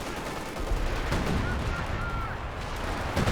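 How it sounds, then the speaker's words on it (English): Artillery barrage in the Company of Heroes 2 strategy game, a dense, continuous rumble of overlapping explosions and gunfire that stays loud throughout, with a few sharper bursts standing out. "That is the actual barrage."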